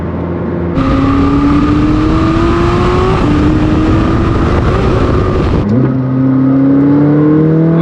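A McLaren 600LT engine revs hard and loud from close by, rising steadily in pitch with a couple of abrupt gear-change breaks before pulling on again, a continuous aggressive roar throughout.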